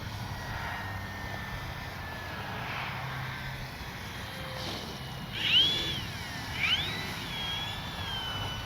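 A remote-control airplane fitted with a new electric motor buzzes faintly in the distance as it comes in to land, with a whine that rises and bends briefly in the middle.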